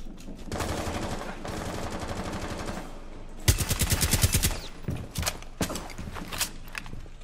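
Rapid bursts of gunfire in Rainbow Six Siege crack out over a busy, noisy background, with several short volleys and scattered single shots toward the end.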